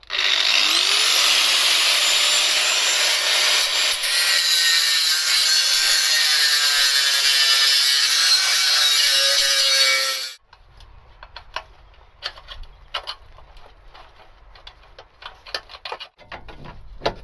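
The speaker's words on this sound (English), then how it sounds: "I'm going to try to grind that out of there so it'll sit down level" Power grinder working a ridge on a Vauxhall Vectra B CDX car part, a loud, continuous high-pitched grinding whine for about ten seconds, then abrupt stop followed by faint handling clicks and taps.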